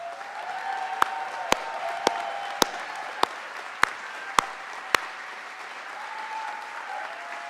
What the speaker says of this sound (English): I'm going to ask my climate action team to stand up and get a round of applause.